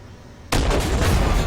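A T-72A tank cannon fires in the Armored Warfare video game, one sudden loud blast after a quiet start, followed by a sustained heavy rumbling roar.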